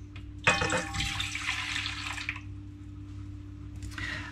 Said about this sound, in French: on va commencer tout simplement par mettre notre lait tiède